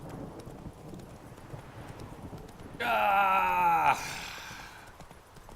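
Roach, Geralt's horse in The Witcher 3, gives a loud, close whinny with a falling tone that lasts about a second, heard over a faint rhythmic hoof clatter. A man briefly exclaims.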